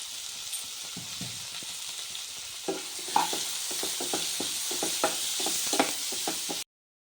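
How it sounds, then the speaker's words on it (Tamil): Tomatoes sauté in a pan with turmeric and salt for tomato rice, a steady soft sizzle overlaid by scattered scraping clicks of a spoon stirring, close and moderately loud, ending abruptly. "இப்போ தக்காளி நல்லா வதங்கிட்டு பாருங்க"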